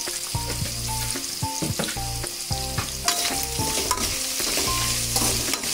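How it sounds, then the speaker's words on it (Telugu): Chopped tomatoes with salt fry in a tempering in a pan for uggani, a loud continuous sizzle under regular scraping spatula strokes, close and without speech. "టమాటా తాలింపు తొందరగా మగ్గటం కోసం, తాలింపు వేగటం కోసం చిటికెడంతా ఉప్పు"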